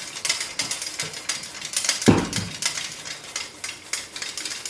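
A corn mill grinding corn into meal and grits clatters in a steady, rhythmic mechanical rattle, with one heavier thud near the middle. It is close and fairly loud, and no voices are heard.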